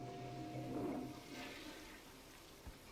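A toilet flushes faintly, a brief rushing swirl of water with a low hum beneath, then a small knock.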